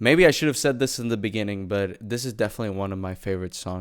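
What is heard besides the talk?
No distinct noise like a dog, phone or traffic.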